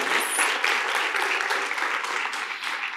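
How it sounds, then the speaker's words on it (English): A crowd at a school board meeting claps continuously, a dense, steady wash of applause filling the room at moderate loudness. "let's give them a round of applause"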